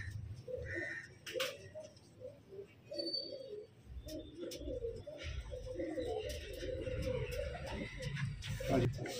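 Pigeons coo repeatedly in soft, rolling phrases close by, with faint background voices and a few brief chirps.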